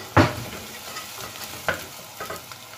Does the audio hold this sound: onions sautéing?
yes